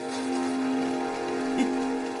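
Steady rain hisses across the whole band in a continuous wash, fairly loud and even, with a faint tonal hum running beneath it and no voices.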